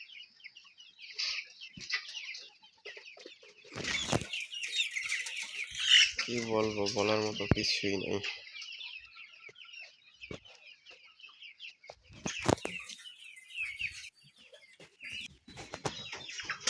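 Sick chickens in a two-storey poultry shed holding about 3,000 birds, struck by bird flu: continuous faint clucking and squawks with a brief louder rooster-like call, while someone speaks over them.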